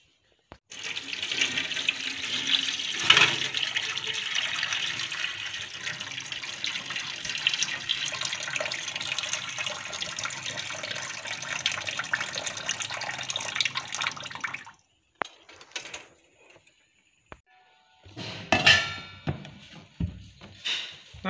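Water runs steadily into or out of a container while excess water is drained from soaked idli rava, a continuous close splashing stream lasting most of the time, then stopping, followed by a few brief splashes.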